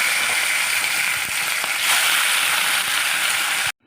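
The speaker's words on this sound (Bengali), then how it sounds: "এবার আমি মাছটা ভেজে নেবো।" Fish sizzles and crackles in hot oil, a loud continuous frying hiss with small pops, which cuts off abruptly near the end.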